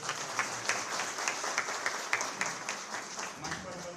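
Audience applause at a BJP Uttarakhand district workshop in Haridwar, a steady wash of many hands clapping with sharper individual claps poking through, sustained and fairly loud throughout.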